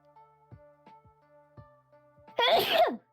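A loud sneeze bursts out near the end, close and forceful, after a stretch of quiet background tones and a few soft knocks during a tabletop role-playing session.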